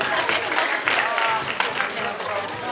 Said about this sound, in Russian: Аплодисменты Ане.